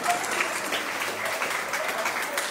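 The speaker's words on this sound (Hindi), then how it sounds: "जोरदार तालियां।" An outdoor crowd at a Mata Ki Chowki devotional gathering in a Sydney park breaks into steady, dense applause that carries on without letup through the whole moment.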